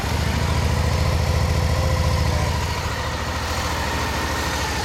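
A 2013 Suzuki V-Strom 650 motorcycle engine idles close by, a steady low thrumming pulse that eases slightly partway through, with no talk.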